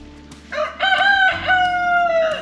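Roosters crow at close range on a homestead, one loud drawn-out cock-a-doodle-doo rising and holding over a brief overlapping call.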